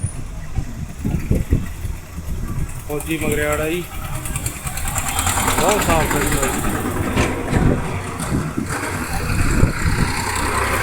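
A clean 855-model tractor with new tyres idles with a steady low rumble under nearly continuous nearby talking.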